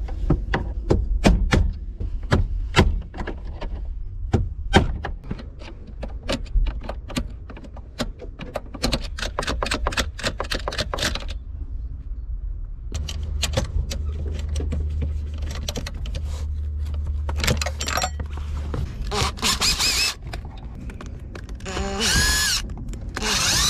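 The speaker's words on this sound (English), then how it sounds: "let's go ahead and chisel this thing off" A flathead screwdriver used as a chisel to pry a part off a junkyard Honda Civic EJ2: rapid, loud, close metallic tapping and scraping in dense bursts, later with heavier grinding noise.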